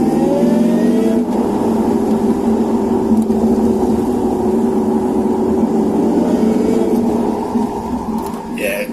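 A car engine fitted with a modified air intake and ducting revs steadily in low gear, a loud, sustained mid-pitched drone with a slight rise in tone and an airy intake note, holding close and constant throughout.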